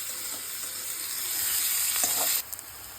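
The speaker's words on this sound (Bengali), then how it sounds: "এবারে যাচ্ছে পেঁয়াজ কুচি, এটাকে গোল্ডেন ব্রাউন ফ্রাই করতে হবে" Chopped onions being fried golden brown for Bengali-style mutton curry with potatoes, making a bright, close sizzle that swells while the pan is stirred and then cuts off abruptly, followed by a couple of small clicks, with no talking.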